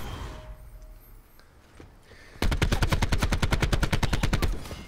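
Sustained automatic gunfire in the video game Black Ops 4, a rapid even burst of loud shots lasting a few seconds after a quieter stretch of game ambience.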